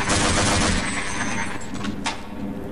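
Rapid gunfire bursts from automated turrets in the video game Half-Life, dense and loud at first, then thinning out into scattered shots with a sharp crack near the end.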